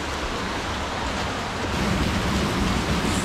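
Steady broadband roar of the Menzenschwander waterfall near St. Blasien in the Black Forest, a continuous rushing wash of falling water heard close and fairly loud throughout, with no voices.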